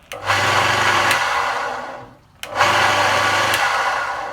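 A bench top belt sander runs with its guard off, a loud whirring motor switched on, spinning down, then starting again in two similar cycles, with no talk.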